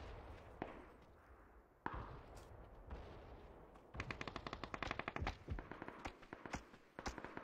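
Rapid bursts of MP5K submachine gun fire in the battle royale game PUBG, loud and close, with sharp repeated shots clustering densely in the second half after a few isolated cracks.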